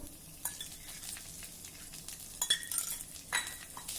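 Garlic cloves, ginger and green chili stir-frying in a little oil, with a soft steady sizzle broken by a few brighter clinks and scrapes of a spoon against the pan.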